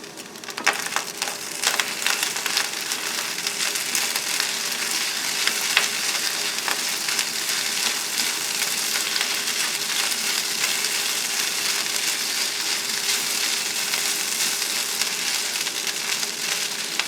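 Shrimp fried rice sizzling in a pan during tent cooking, a dense continuous crackle with scraping stirs of a utensil, loud and close, no talking.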